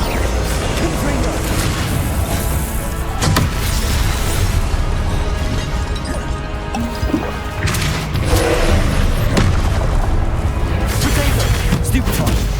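The Confringo fire spell in the Hogwarts Legacy video game goes off as repeated loud, booming explosions within dense, continuous combat noise.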